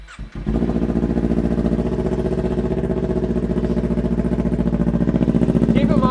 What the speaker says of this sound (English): let's go ahead and fire it up and hear what this cheap exhaust sounds like